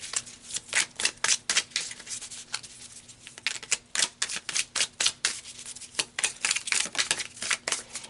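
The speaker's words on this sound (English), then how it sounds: "So let's pull some more cards." Tarot cards are shuffled by hand in quick bursts, a rapid series of crisp riffling flicks with short pauses between them, close and clear with no talking.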